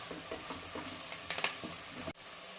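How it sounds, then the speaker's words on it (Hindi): Onions frying in a pan with chili powder and turmeric: a steady close sizzle with crackling pops and a few scraping stirs, no voices. "अब हम इसे गोल्डन होने तक फ्राई करेंगे।"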